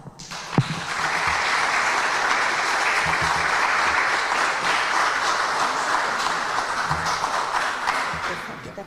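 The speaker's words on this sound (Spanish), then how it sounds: "para quien pido un fuerte aplauso" An audience at an evening lecture on transport and logistics applauds a guest engineer, with a sustained, even wash of clapping from a large hall that holds steady for several seconds.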